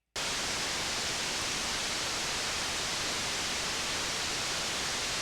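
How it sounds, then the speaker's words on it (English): A synthesizer holds a steady burst of broadband hiss-like noise for an EDM sound, loud and unchanging from start to finish with no other sounds. "So if I hit play at this point, we should just hear some noise."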